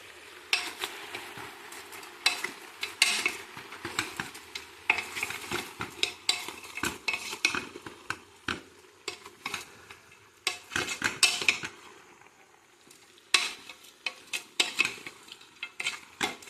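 Country chicken frying in a pot with salt and turmeric while being stirred: steady close sizzling under repeated scraping and clattering of a metal spoon against the pan, with brief quieter pauses.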